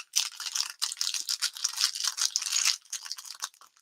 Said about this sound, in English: That paper feels really, really loud.